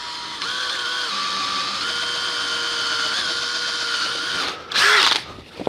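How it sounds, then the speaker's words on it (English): A power drill bores slowly into a wooden snare drum shell, a close, steady whining drone lasting several seconds, then a brief louder, harsher burst near the end as the bit breaks through. "don't drill into the shell, but sometimes you've got to do it, especially on a snare"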